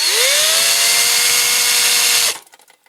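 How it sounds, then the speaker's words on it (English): Power drill boring into a part of a Corgi Major toy Chipperfields crane truck during restoration: a loud, close, steady whine that spins up at once, holds for about two seconds, then cuts off and winds down. "I'm going to have to drill a bit more with that."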